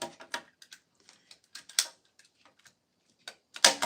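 A staple gun fastening a winter wreath of Norfolk pine with a velvet bow: a few quiet, sharp clicks spaced apart, ending in one louder, close snap.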